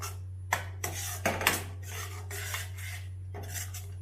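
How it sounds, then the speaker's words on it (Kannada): Spoon scraping and stirring thick mushroom gravy masala in a pan after kasuri methi goes in, a few close, sharp scrapes and rubs over a steady low hum. "ಇದನ್ನ ಹಾಕೊಂಡು ಸ್ವಲ್ಪ ಕೈ ಆಡಿಸ್ಬೇಕು"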